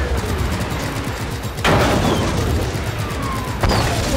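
Video-game gunfire in Just Cause 3, a steady rattle of rapid automatic shots broken by two loud, sharp blasts, close and harsh, with no talking over it.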